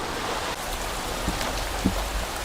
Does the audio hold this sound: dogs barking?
no